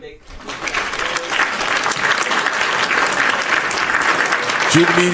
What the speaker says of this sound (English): Hit my hand claps, Lex.